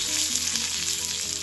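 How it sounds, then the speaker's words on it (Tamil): Steady, loud sizzling of chana dal, curry leaves and dried red chillies tempering in hot ghee, a continuous crackling hiss close by with no voices. "அந்த நெய்யிலே நம்ம இப்போ தாளிக்க போகிறோம்."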